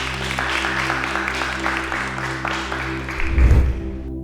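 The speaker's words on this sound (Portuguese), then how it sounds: "As palmas louvam ao Senhor." A church congregation claps steadily in unison over a sustained low organ-like musical drone, with a brief louder swell near the end.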